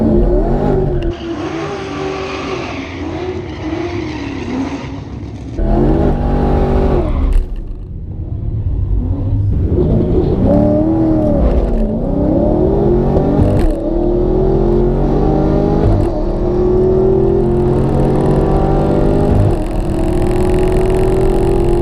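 A Camaro SS and a Challenger Scat Pack launch at a drag strip: loud, close engine roar with an abrupt cut, then repeated revving and a sustained climbing acceleration through the gears, no speech.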